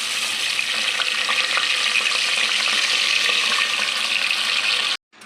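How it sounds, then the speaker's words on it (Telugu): Soaked rice and moong dal frying in ghee for pongal, giving a loud, dense, even sizzle up close that cuts off abruptly near the end. No voices are present. "ఇలా బియ్యం పప్పు వేసుకొని ఒక 5 మినిట్స్ నెయ్యిలోనే ఫ్రై చేసుకోవాలండి"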